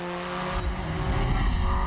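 A sporty car in the Forza Motorsport 7 racing game roars under throttle, its engine note loud and continuous, with a sharp tire squeal cutting in briefly near the middle.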